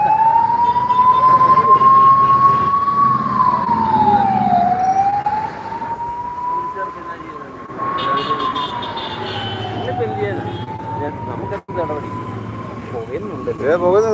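A loud siren wails nearby at a short-circuit fire in a building, its tone slowly rising and falling over several seconds, with voices at times underneath.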